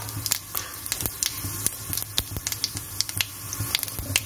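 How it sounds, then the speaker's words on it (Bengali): Fennel seeds and dried red chillies hit hot oil for a fish curry, giving a crackling, spitting sizzle with sharp irregular pops throughout, close and fairly quiet, with no talking. "এই যে তেতে গেল, আমি দিলাম মৌরি আর শুকনো লঙ্কা"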